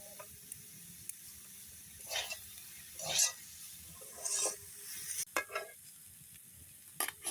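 Greens with flat beans are stirred while frying in a pan on a clay stove, giving a soft steady sizzle with intermittent scraping and stirring bursts, some sharper clatters near the end.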